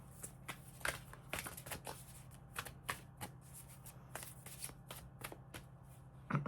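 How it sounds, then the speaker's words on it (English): A deck of oracle cards being shuffled repeatedly, a steady run of crisp riffling bursts and soft slaps, close by, with no talking. "So let's do a couple more shuffles."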